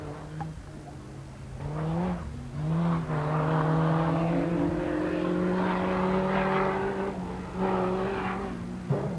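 Opel Kadett GSI rally car from the 1986 Circuit of Ireland Rally, a Group N entry, drives past with a loud, sustained engine note that rises and falls through gear changes over about nine seconds.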